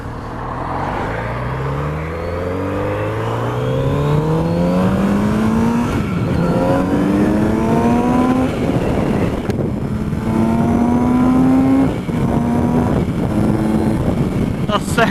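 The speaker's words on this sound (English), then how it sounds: "That sounds really good. I love the noise. Loving the noise it makes." A Kawasaki Z900RS motorcycle engine revving repeatedly through rising gear-like sweeps, loud and close, with a steady exhaust roar and a brief drop before climbing again; a voice talks faintly underneath.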